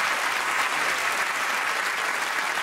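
A studio audience at a comedy game show applauds, a dense, steady roar of clapping from many hands that fills the whole moment without talk.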